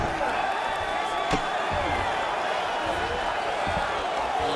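A virtual arena crowd in the UFC 5 fighting game roars in a steady, dense wash of cheering, with occasional thuds and a commentator's voice layered over it.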